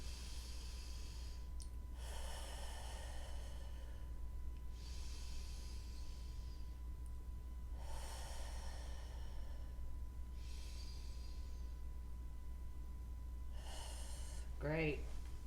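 Slow, deep breaths during a calming energy routine, each long airy inhale or exhale drawn out over a couple of seconds and repeated several times against a quiet, faint hum.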